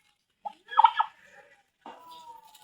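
A turkey on a farm, kept among ducks, chickens and pigs, lets out a short burst of gobbling, then a quieter drawn-out call; it sounds fairly close and stands alone with no talking.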